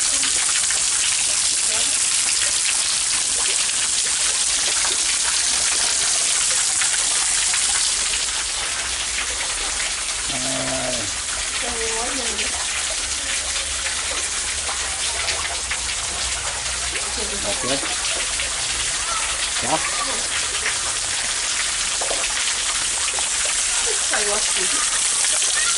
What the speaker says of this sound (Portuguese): Tem até uma cachoeira aqui, ó.